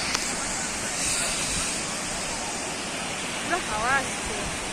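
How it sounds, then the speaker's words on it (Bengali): The Jung waterfall at Tawang, water falling from a great height, makes a steady broadband rush that fills the whole scene, with brief voices rising faintly over it near the end. "হ্যাঁ এত উপর থেকে জল পড়ছে না।"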